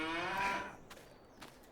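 A cow in a pen of Farming Simulator 22 gives one long, tonal moo that fades out, followed by a couple of faint clicks, with no talking.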